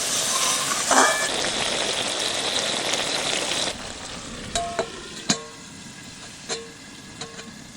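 Fish curry sizzles in a pan while being stirred, then a lid goes on with several sharp metallic clinks and taps, leaving a quieter steady simmer underneath.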